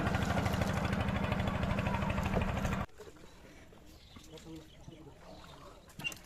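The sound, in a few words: boat on the Turag river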